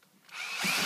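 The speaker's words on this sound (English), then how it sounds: "So let's go ahead and undo these." A power driver whirs as it backs out hex screws on a Losi 8ight T 2.0 RC truck chassis: one short burst that starts quiet and rises into a close, loud whine.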